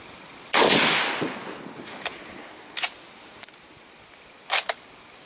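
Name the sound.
gunshots from an antique Lee Enfield .303 rifle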